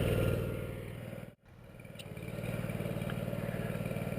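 A Ditch Witch 1820 trencher engine idles steadily up close with a low, throbbing pulse, briefly dipping before settling back into its even rumble.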